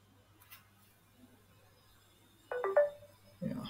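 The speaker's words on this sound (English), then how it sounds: "Yeah, I got a notification and I'm approving." An authenticator app notification chimes on a phone as a short cluster of bright tonal beeps, faint and close in an otherwise quiet room, followed by a brief thud.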